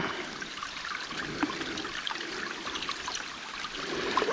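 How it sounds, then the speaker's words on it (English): Water sloshing and trickling as gravel of orange stone is washed gently through a drop riffle sluice box while gold prospecting; a steady, soft running wash with a few small splashes, fairly close. "Work from the shoulder, bring everything in the front, wash the front riffle, and nice and gentle"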